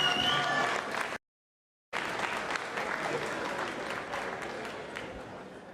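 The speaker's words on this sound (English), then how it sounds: "Round of applause for these two." A press-conference audience bursts into loud, sustained applause and cheering, broken by a brief gap of silence, with the clapping then continuing steadily and tapering slightly.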